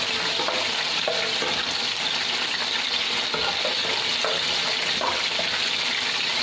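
White cumin seeds dropped into hot oil in a kadai, sizzling loudly and continuously, with faint stirring taps under the dense frying hiss.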